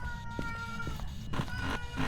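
A domestic cat meows several times in short, close calls, each a brief rising and falling tone over a low indoor background hum.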